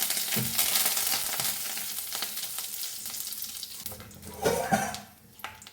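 Brinjal and curry leaves frying in coconut oil give a close, steady hiss and crackle, joined by a few stirring clatters toward the end.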